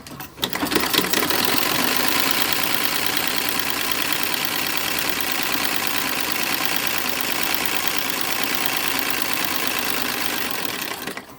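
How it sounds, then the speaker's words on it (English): A sewing machine stitches the center back seam of a 1910s-1920s style girl toddler's underwear garment, running in one loud, steady, continuous whir for about ten seconds with no talking. "I'm going to go ahead and sew the center back of all the pieces"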